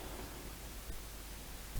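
Steady rain in RollerCoaster Tycoon Classic, a soft continuous hiss of falling water with faint low rumbling underneath, even and unbroken for under two seconds with no voices.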